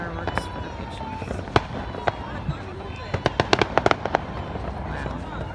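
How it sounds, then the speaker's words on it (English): Fireworks burst outdoors on July 4th, 2020, as sharp separate bangs that come faster and cluster toward the end, set over steady crowd noise and voices. "Fireworks for the patients."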